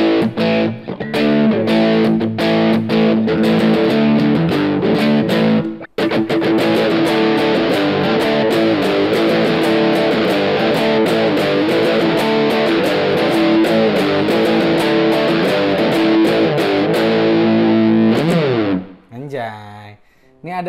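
An electric guitar runs through distortion preset 34 of a VOX StompLab 2G effects unit, playing loud, sustained, heavily saturated chords almost without break, with a brief gap before a final fading chord.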